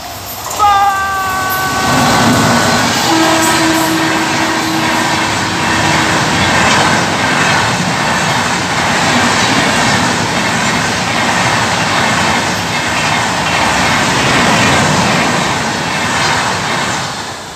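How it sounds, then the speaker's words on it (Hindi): A train passes close by on a railway track, opening with a brief horn blast, then a loud continuous rumble and clatter of wagons rolling past. "देखो ये आ रही है ट्रेन"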